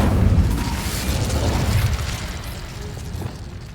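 A fiery burst from the Incendio fire spell in Hogwarts Legacy erupts with a loud whooshing boom, then fades into a rough, crackling roar that tails off over a few seconds, with no voices.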